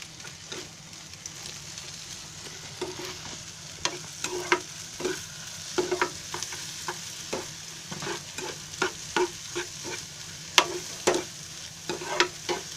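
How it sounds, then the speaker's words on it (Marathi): Egg bhurji stirred briskly in a hot pan over high flame with fresh coriander, a spatula scraping and tapping in quick irregular strokes over a steady close sizzle, with no voices. "आणि आता पूर्ण सुकं होईपर्यंत हलवत राहायचं आहे"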